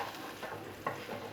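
Spine gourd fries in a pan, giving a soft steady sizzle with a brief scrape or stir of a utensil partway through. Close and quiet, with no voices.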